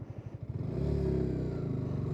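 A 2025 Yamaha R125 motorcycle pulls away on a hill start in wet conditions, its engine idling with a steady pulse before revving up into a sustained, louder drone close by, with no talking.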